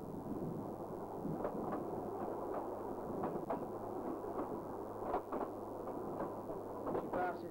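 A narrow gauge steam train on the Ffestiniog Railway in North Wales rumbles steadily with a low continuous hum and rhythmic clatter of wheels, crossing a cast iron bridge, with occasional sharp knocks and squeals over the running noise.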